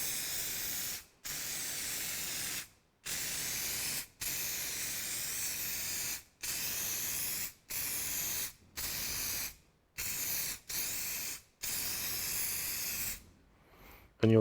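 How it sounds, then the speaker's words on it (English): Gasket sealant from an aerosol can is sprayed onto a soft copper head gasket for a 1954 Ferguson TEA20 tractor engine, in about nine loud, close hissing bursts separated by short pauses. "spray the head gasket all over with this stuff."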